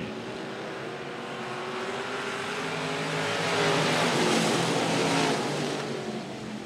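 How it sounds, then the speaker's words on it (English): Race cars roar around the oval at Cotton Bowl Speedway as the green flag drops. A dense, loud wall of engine noise swells as the pack passes close, then eases slightly. "Green flag is out, we're underway."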